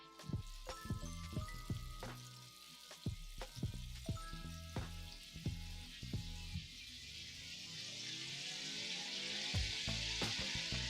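Food fries in a pan with a steady crackling sizzle that grows denser and louder over time, at first punctuated by sharp knocks from stirring, and no talking.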